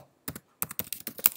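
Typing on a computer keyboard: a quick cluster of crisp key clicks, a short pause, then a faster run of close, distinct taps in a quiet room.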